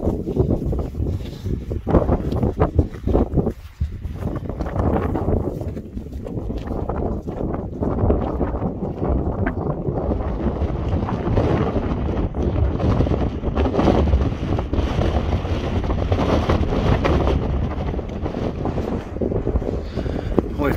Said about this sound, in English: Very, very windy up there, as you can probably hear.